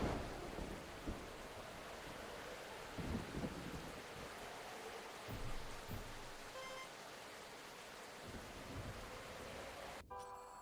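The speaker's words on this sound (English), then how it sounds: "a storm is raging." Steady rain pours down through a thunderstorm, with low rumbles of thunder rolling under the constant hiss; a moderately quiet, continuous scene with no voices.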